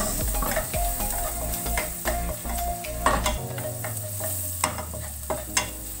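Garlic is stirred in a hot, sizzling pan for adobong pata, with a loud, steady frying hiss, scraping spatula strokes and a few metallic pan clinks close by.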